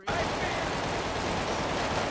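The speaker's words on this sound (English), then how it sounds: "somebody's shooting at us in the store" Dense, continuous gunfire erupting inside a store in GTA 5, a loud barrage that starts abruptly and keeps up without a break.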